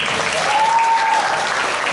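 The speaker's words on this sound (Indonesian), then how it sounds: "Wah, tepuk tangan." Applause from a school audience at a talk event, a short burst of steady, moderately loud clapping with no speech over it.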